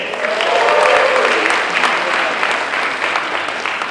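Audience applause at a San Diego Comic Con panel for Voltes V: Legacy, a steady wash of clapping that swells early and holds for about four seconds, with some voices mixed in.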